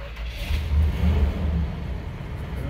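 A 1965 Imperial LeBaron Barreiros limousine engine is started up close, turning over and catching with a couple of throaty surges before settling into a rough, steady running rumble.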